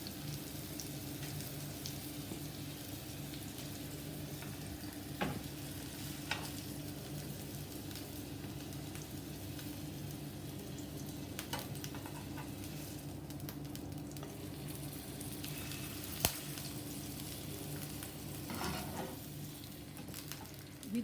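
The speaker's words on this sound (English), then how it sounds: "Transfer this kebab to cook in another pan" Chicken seekh kebab frying on slow heat in a pan, giving a steady, even sizzle that runs unbroken throughout with a few brief clicks and pops, and no voices.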